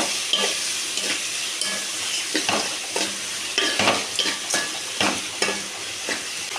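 Onion and tomato fry in a pan for chutney, a close sizzle broken up by repeated scraping and stirring strokes at an uneven rhythm, with no voices.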